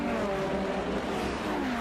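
A Ferrari F12 V12 engine drones at a steady pitch, a continuous car engine note with slight pitch glides, heard alone without talk.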